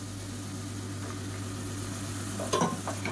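Carrot, potato and bean pieces sauté in a pan for salna, a soft steady sizzle under a constant low hum, with a brief burst of scraping from stirring near the end.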